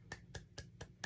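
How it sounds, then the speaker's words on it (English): Five crisp hand claps fall in a quick, even rhythm, close but fairly quiet, over a low background hum. "Sometimes it's the clapping of your hands."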